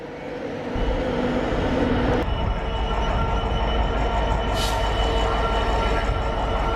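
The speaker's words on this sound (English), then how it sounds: "Well, at least we're getting one freight." A freight train passes close by on the railway, a loud, continuous rumbling roar with rail noise. It swells within the first second, holds steady throughout and includes a brief high squeal partway through.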